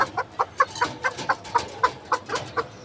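A hen clucks in a steady series of short, bright calls, about four per second, close by with no talking.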